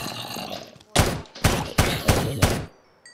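Five loud bursts of gunfire from a 5.56 rifle in a Minecraft zombie apocalypse mod, evenly spaced shots that ring out alone in a short sequence.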